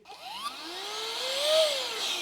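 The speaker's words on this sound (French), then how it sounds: "Je mets un petit coup de soufflage pour enlever les poussières." A small electric dust blower, which also works as a vacuum, runs with a steady whining hiss whose pitch rises and falls as it blows dust off photography gear, close and continuous.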